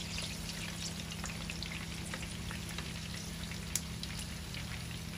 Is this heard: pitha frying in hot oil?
yes